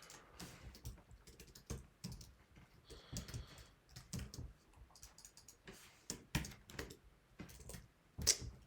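Steady run of computer keyboard typing with uneven bursts of key clicks and a few louder taps, close and fairly quiet, with no talking.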